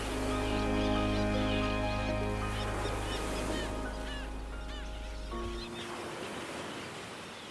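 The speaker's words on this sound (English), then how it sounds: "Thousands of birds inhabit the cliffs." Seabirds such as fulmars, guillemots, kittiwakes, puffins and razorbills on sea cliffs at the northern tip of Scotland: many honking, cackling calls overlap over a steady low drone that cuts off near the end, leaving wind and distant bird noise.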